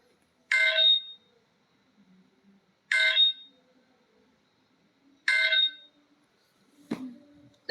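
An OSCE exam start bell sounds three times at steady intervals, each a short, bright electronic chime ringing close and alone, followed by a lower knock.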